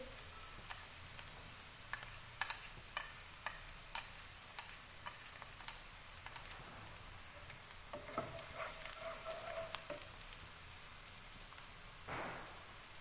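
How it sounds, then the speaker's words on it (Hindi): Onion and cumin seeds frying gently in a pan over low heat, a soft steady sizzle with scattered light ticks and pops, quiet and close, with a brief stirring scrape near the end. "प्याज हमारी हल्की सी फ्राई हो गई है, हल्की आंच करेंगे। जीरा शामिल करेंगे"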